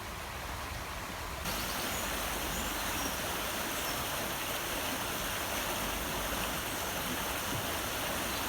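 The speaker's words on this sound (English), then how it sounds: "The river's a lot slower than it was earlier on." A slow-moving river runs in a steady, even wash of water noise, continuous and moderately close, with no voices.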